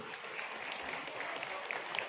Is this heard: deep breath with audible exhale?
no